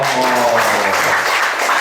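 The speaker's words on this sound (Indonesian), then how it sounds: "Iya, tepuk tangan dulu dong." Brief burst of audience applause at an LSM Cordova community event, steady clapping throughout with some voices mixed in beneath it.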